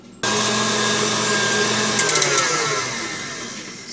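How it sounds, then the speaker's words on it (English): An electric stand mixer whirs steadily as it beats a cup of sugar with six egg yolks for tiramisu, loud and close, starting abruptly and easing slightly in pitch toward the end. "in our mixer bowl, we're gonna put in the cup of sugar and the 6 egg yolks, and we will beat that until fluffy"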